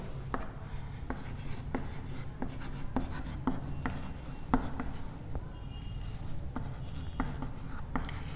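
Pen or pencil scratching out numbers by hand on paper during a class 3 maths lesson, a steady run of short rhythmic strokes and taps, close and fairly quiet.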